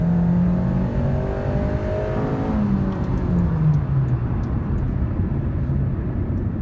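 A Hyundai Elantra accelerating from cruising speed, its engine note rising steadily then dipping as a gear changes, with a continuous droning whir of engine and road noise heard from inside the car.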